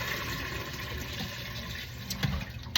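Vinegar and water soaking liquid poured off turkey wings into a sink, a steady close rushing splash of liquid running continuously with a brief louder gush near the end.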